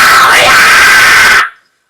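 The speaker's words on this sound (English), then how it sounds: "to build that into the high scream, we do basically the same thing as we did with the other highs" High metalcore scream demonstration: a single sustained, loud, raspy shriek held for about a second and a half before cutting off abruptly into silence.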